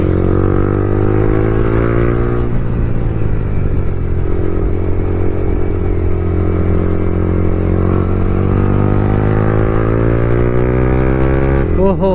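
A motorcycle engine drones loudly and steadily at close range throughout a wheelie ride, with its pitch dipping and shifting as the throttle changes.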